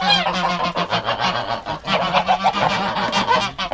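Several Franconian geese honking close by in a loud, overlapping run of harsh nasal calls with no break, on a farm that also holds Chinese geese and chickens.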